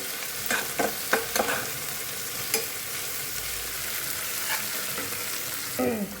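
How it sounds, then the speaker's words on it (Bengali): Onions fry in hot oil in a pan for a sweet pumpkin bharta, an even close sizzle punctuated by several spatula scrapes and stirring knocks, with no talking. "এখন পেঁয়াজটাকেও আমি একটু ভেজে নেব।"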